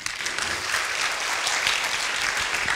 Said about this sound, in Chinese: 请所有的同学打自内心给予施明德主席掌声